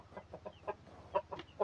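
A two-year-old Rhode Island Red hen clucks in a steady series of soft, close, rhythmic clucks, about a dozen short notes with no talking over them.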